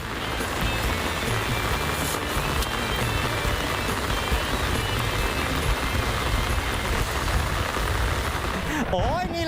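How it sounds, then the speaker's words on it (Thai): Heavy rain pours down during a summer storm, a dense, steady roar that holds at full strength through nearly the whole stretch before a brief tonal sound near the end. "ทำให้เกิดฝนกระหน่ำลงมาอย่างรุนแรง"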